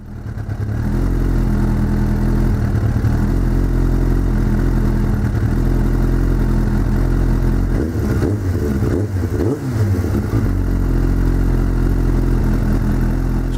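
A Suzuki GSX600 motorcycle engine idles steadily and loudly during carburetor balancing, a constant close drone with a brief wavering rise in revs near the end and no talking.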